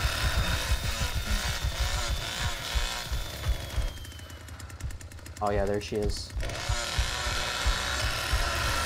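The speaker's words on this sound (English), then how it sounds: "our chainsaw's about to overheat" A chainsaw in the Texas Chain Saw Massacre video game runs as a continuous, loud, rattling engine drone that stutters and revs, with someone briefly talking over it.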